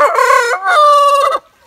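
Two loud, close crows from a farm rooster, each drawn out with a strained, harmonic-rich tone and a short break between them, standing alone without talk.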